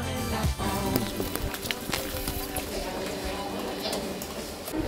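Steady rain falling and pattering on surfaces at a palace estate in Portugal, a dense close hiss with scattered drips, while people talk over it.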